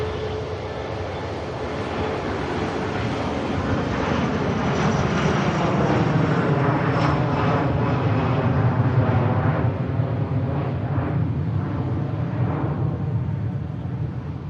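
A KLM airliner landing at Manchester Airport roars loudly and steadily, its jet engine noise swelling as it passes near and then easing slightly, with no talk over it.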